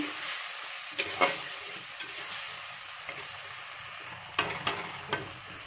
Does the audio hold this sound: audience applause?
no